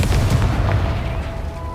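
A spell blast from the video game Hogwarts Legacy bursts with a deep booming rumble, a short loud explosive thud that fades quickly, heard alone without talk.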